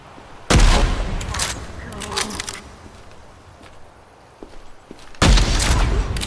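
Two loud, broadband shotgun blasts from a video game shooter, Project Silverfish, one near the start and one near the end, with quieter game sounds and faint clicks between them.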